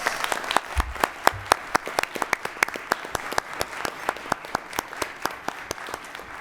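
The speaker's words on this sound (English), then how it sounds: "let's give them another round of applause." A crowd at a school board meeting applauds steadily, many hands clapping with sharp individual claps standing out, continuing throughout at moderate loudness.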